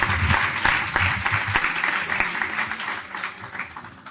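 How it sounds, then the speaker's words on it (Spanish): Sustained applause from an audience at the opening of a writers' literary event, dense steady clapping that fills the space and slowly tapers, with no one speaking over it. "No me aplaudáis más, que ya no sé dónde me voy a meter"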